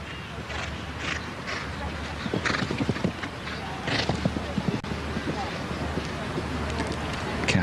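Horse hooves thud during a show jumping round at the Queen Elizabeth Cup, Hickstead, in a steady rhythmic clip-clop under continuous commentary and outdoor crowd ambience.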